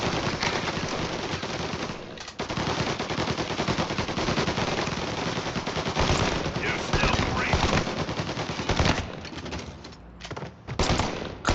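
Dense video game gunfire, rapid machine-gun bursts and shots in a gangster-style shootout, loud and nearly continuous with brief lulls throughout.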